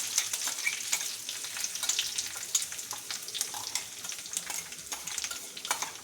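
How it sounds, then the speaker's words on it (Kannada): Spice paste added over curry leaves in a pan for pepper chicken fry sizzles briskly, a bright crackling hiss with scattered spatters and spoon scrapes, close and steady with no talking. "ಕರಿಬೇವು ಹಾಕ್ಕೊಂಡ ನಂತರ ಇದಕ್ಕೆ ಈ ಪೇಸ್ಟ್ ಏನು ಮಾಡ್ಕೊಂಡಿದ್ದೀವಲ್ಲ ಇದನ್ನು ಹಾಕ್ಕೊಂಬಿಡೋಣ"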